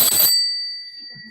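A single bicycle-style bell ring, bright and close, with a sharp strike that fades into a sustained metallic ring, rung as a reward, alone without talk.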